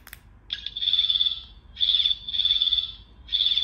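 A Fourteenth Doctor sonic screwdriver toy's shrill electronic alarm tone beeps in four steady bursts with short gaps between them, close and fairly loud.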